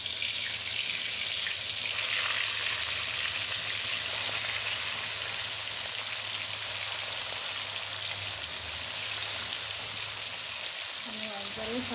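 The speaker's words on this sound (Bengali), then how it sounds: "আমি এখন মাছগুলো এক এক করে তেলের মধ্যে ছেড়ে দিচ্ছি।" Fish pieces fry in hot oil with a dense, constant hiss that sounds almost like heavy rain, close and even throughout, with a brief voice near the end.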